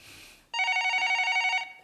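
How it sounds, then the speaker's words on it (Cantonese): A telephone rings indoors in a drama scene: one loud, steady electronic ring burst of about a second, following a brief patch of faint hiss. "聽埋呢個電話先講啦。"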